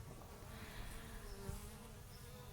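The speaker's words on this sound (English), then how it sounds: "this is a robber bee, I believe, coming up on the side, right there." Bees buzzing around a wild swarm hive, including robber bees, a faint continuous hum with individual bees droning close by.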